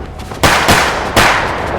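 Three sharp, loud 9mm pistol gunshots in quick succession, each with a brief echoing tail, over a low rumble.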